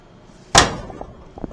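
A fiberglass car door slams shut once, a sharp single thud close by, followed by faint small knocks.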